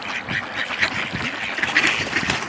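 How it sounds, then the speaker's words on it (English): Ducks quack continuously at a park during feeding, a dense flock with overlapping, rapid calls close by and loud, with no talking. "Look at all the ducks. So many ducks. Duck galore."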